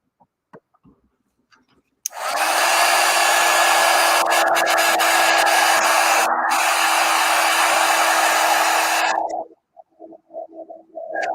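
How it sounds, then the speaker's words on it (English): A heat gun blows hot air across a drawing of the Little Engine That Could. After a brief quiet opening, a loud, steady, close whooshing roar holds for about seven seconds, then cuts off and leaves scattered small noises. "I'm going to hit this with the heat gun."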